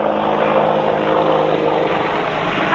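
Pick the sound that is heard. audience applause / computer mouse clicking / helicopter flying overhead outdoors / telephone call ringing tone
helicopter flying overhead outdoors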